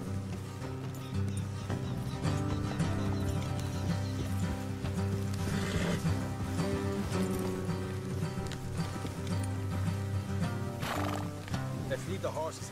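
Horses trotting and neighing while riders travel together in the Red Dead Redemption 2 video game, steady hoof clip-clop under game music and talking voices.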